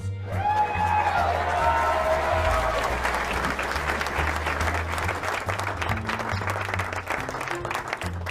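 A drive-in crowd at a Free Comic Book Day contest applauds for the girl contestants, dense clapping that lasts throughout, with music tones at the start and a low bass pulse underneath.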